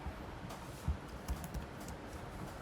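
Quiet computer keyboard typing as code is entered in a Java programming lesson, a few soft scattered key taps over low background noise, with no talking.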